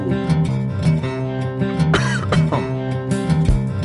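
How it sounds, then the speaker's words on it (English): A person coughs in short bursts, several times, over steady tonal game music. "Sorry about the coughing."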